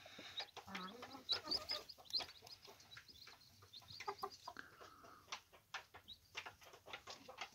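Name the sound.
chickens clucking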